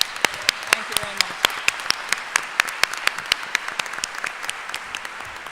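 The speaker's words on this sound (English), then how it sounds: "Please let's give them a big applause." Scout conference audience in Brazil applauds, a sparse room of hands clapping with distinct sharp claps standing out over a low murmur, a voice briefly speaking under it.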